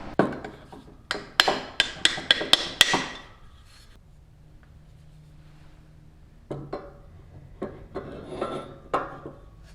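Hammer blows on a bent steel tube, being rounded out to take a sleeve: a quick burst of about eight sharp metallic strikes, a quiet pause, then scattered lighter knocks and handling sounds.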